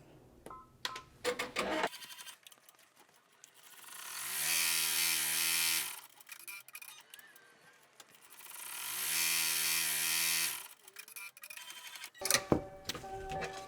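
An embroidery machine stitching a design outline runs in two long bursts of rapid, buzzy mechanical whirring, close and fairly loud, with quiet pauses and small clicks and handling noises between and around them.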